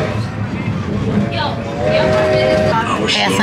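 Strasburg Railroad steam train pulling out of the station, a steady rumble and clatter of the moving cars with a brief whistle-like tone in the middle, all under crowd chatter and talk.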